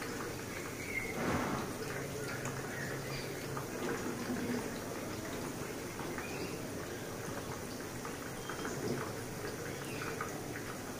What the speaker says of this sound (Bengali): এখন চুলার আগুন মিডিয়াম টু লোর মাঝে রেখে পাকোড়াগুলো আমি ভালোভাবে ভেজে নিব একপাশে